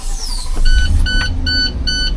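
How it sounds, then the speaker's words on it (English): A school bus engine cranks and starts during a Class B pre-trip inspection, a close, loud low rumble, with beeping warning tones sounding repeatedly over the engine as it catches. "so we want to start the bus."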